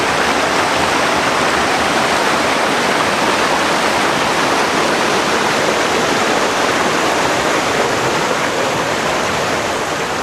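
A river rushes beneath a small footbridge on a hiking trail to Pamelia Lake, a loud, continuous, close broadband roar of flowing water with no voices.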